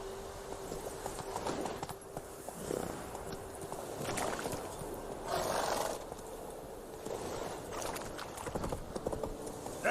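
Horse hooves pound in a galloping clip-clop rhythm in The Witcher 3, steady and moderately close over a low background hum, with swells of ambient game sound.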